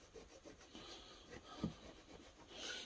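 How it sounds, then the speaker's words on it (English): A cloth rubs over a lead casting in soft, close scrubbing strokes, faint and irregular, with one slightly louder scrape partway through and no voices. "Just rub it all into all the spots of the casting."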